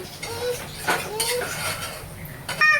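Sautéed vegetables for masala khichdi are stirred in a metal pot, giving close clinks and scrapes of a spoon against the pot over a background of household voices.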